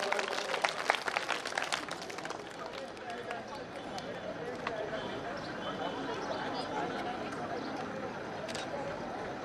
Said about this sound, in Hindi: इस बच्ची दुर्गा के लिए जोरदार ताली एक बार